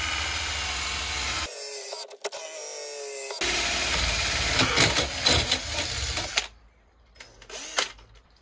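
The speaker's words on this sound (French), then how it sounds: "On va prendre une scie cloche." A hole saw cuts through a plastic box, a close whirring drill grind with rough scraping bursts that stops and restarts, then a quieter tail of clatter, with no talking.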